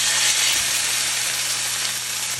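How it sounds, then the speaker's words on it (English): A steak that is already cooked through sears in a hot pan, giving off a steady, close, bright sizzling hiss with no talk. "It's already cooked all the way through, so all we need to do is just get the sear on it"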